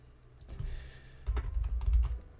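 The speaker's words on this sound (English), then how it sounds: "Apologies if the clicking of my mouse bothers you" A computer mouse clicks during a strategy game session, a few quiet, quick taps close by and faint over a low background hum.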